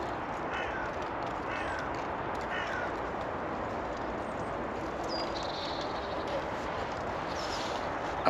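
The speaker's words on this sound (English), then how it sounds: "As a black crow flies over." A black crow flying over a cemetery gives several harsh caws early on, mid-distance, over a constant windy hiss of outdoor background noise that runs throughout.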